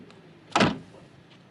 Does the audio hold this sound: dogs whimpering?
no